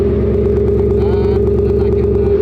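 Synthetic V8 engine rumble played through an electric car's external speaker at a car show, a loud steady idle burble with rhythmic pulsing and a brief rev-like rise.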